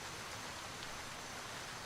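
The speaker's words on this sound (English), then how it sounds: "It does make it harder for them to hear you, and you to hear them when it's raining." Steady rain pouring in the Gray Zone Warfare game world, a dense, even hiss of falling water with no breaks, fairly quiet and alone without voices.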